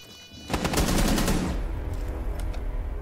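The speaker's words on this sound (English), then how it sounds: "Shooting everything." Rapid automatic gunfire in Rainbow Six Siege, a loud close burst of shots lasting about a second, then continuing fainter sporadic fire against steady game noise.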